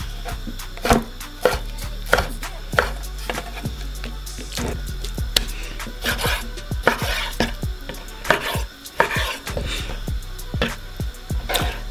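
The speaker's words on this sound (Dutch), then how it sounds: "En de kipfilet, die snijden we gewoon even snel in kleine stukjes." A knife chops chicken breast into small pieces on a board, quick sharp knocks in uneven runs, close and fairly loud, with a faint background hum.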